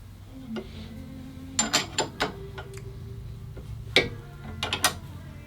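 A Stewart Warner engine balancing machine being set up gives a series of close mechanical clicks, ratcheting knocks and metallic taps in a quiet workshop, with no talking.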